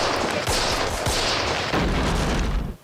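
Soldiers fire in a war TV episode, a loud, continuous wall of gunfire and machine-gun bursts that holds steady before cutting off abruptly at the end.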